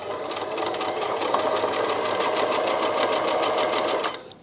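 A Brother My Star 3 sewing machine runs steadily at speed, its needle producing a fast, even mechanical rattle. The sound is close and continuous for about four seconds, then stops abruptly, with no talking.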